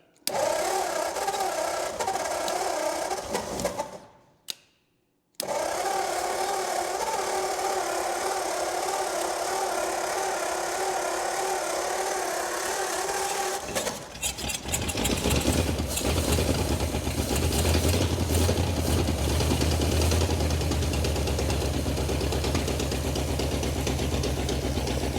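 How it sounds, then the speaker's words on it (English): A 1935 Ford flathead V8, parked for fifty years, idles steadily and loudly close by after a brief cutout, its even running continuing with a slight rise in pitch and load toward the end. "Gotta love the way an old flatty sounds."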